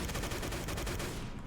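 Rapid automatic gunfire in the World War II shooter Day of Defeat: Source, a burst of evenly spaced, loud close shots emptying a full magazine.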